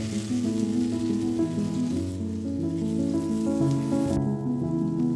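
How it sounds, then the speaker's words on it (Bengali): Chopped onions frying in hot mustard oil in a kadai, a dense continuous sizzle heard up close under a steady musical backing. "কড়াইতে সর্ষের তেল গরম করে বাকি পেঁয়াজ কুচো লাল করে ভেজে বেরেস্তা বানিয়ে তুলে রাখবো।"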